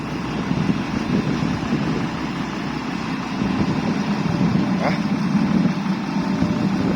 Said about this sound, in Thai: รถไถกับป้าชาครับ